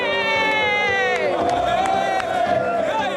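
A crowd at a big sports test event cheers and yells, a loud dense mass of voices with whoops and shouts rising over a steady roar.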